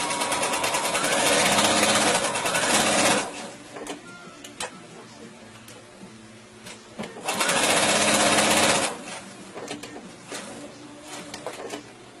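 Sewing machine stitching stretchy fabric for a pillow, two bursts of fast, close mechanical whirring and ticking separated by quieter pauses with small clicks.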